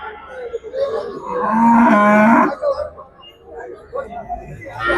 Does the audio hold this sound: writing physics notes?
no